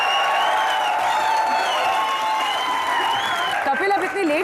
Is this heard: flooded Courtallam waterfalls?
no